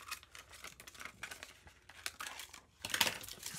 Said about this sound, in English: so I can position it if I just cut the clear plastic around